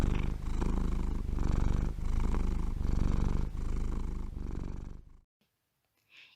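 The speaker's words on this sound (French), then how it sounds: "Il ronronne quand il se sent bien ou pour se rassurer." A domestic cat purrs steadily up close, with a continuous rumbling cycle of about six breaths that stops abruptly, followed by near silence and a faint brief sound at the end.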